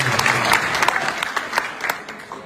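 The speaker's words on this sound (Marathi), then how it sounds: "एकदा टाळ्या आपण त्यांच्यासाठी वाजवल्या" Steady applause from a crowd at a protest rally in Nagpur, many hands clapping at once and filling the whole stretch at a fairly loud, even level.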